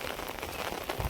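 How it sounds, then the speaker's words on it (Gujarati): Steady rain falls in a village during the rainy season, a continuous broadband hiss of drops on surfaces, close and even, with no voices. "વરસાદ હજી ચાલુ જ છે"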